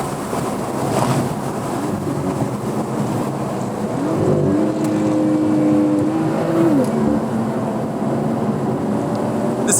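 A 2016 BMW M2 with a turbocharged N55 inline-six is driven on a race track. Steady road and wind roar dominates, with a brief engine note rising and holding near the middle. No one speaks.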